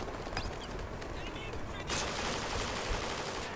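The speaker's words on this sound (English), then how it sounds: "I am shooting more bullets than they are" Gunfire in the Call of Duty Ghosts video game sounds as dense bursts of rapid shots, with a louder sustained barrage in the second half, heard close and without clear talk.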